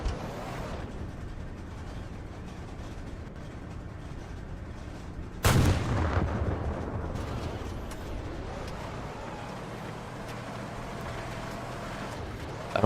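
Gunfire bursts out in a multicrew tank combat video game: a sudden loud blast of machine gun fire cuts in about midway over a steady engine rumble, then a dense crackle lingers and fades as the rumble continues.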